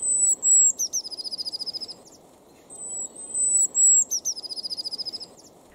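Blue tit singing its high-pitched winter song, twice: a couple of thin piercing notes followed by a rapid trill of repeated notes, clear over a soft background hiss.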